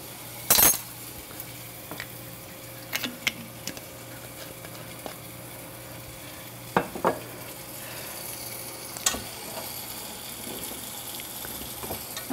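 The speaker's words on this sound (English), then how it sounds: "I want to add a tablespoon of olive oil to the frying pan, and it should be already fairly hot" Olive oil heating in a hot frying pan before sliced zucchini goes in, a low steady sizzle broken by several sharp clinks and scrapes of utensils against the pan.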